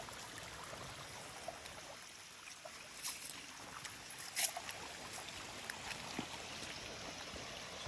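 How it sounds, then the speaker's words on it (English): Steady splashing and trickling water, like a small cascade falling into a creek, with a few louder splashes standing out. "A creek coming from above with, again, more waterfall features."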